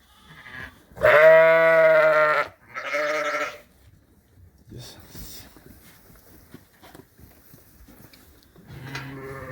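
A pregnant ewe bleats loudly in a barn at 3 in the morning, two long close calls followed by quieter rustling and softer sounds, with another faint bleat at the end.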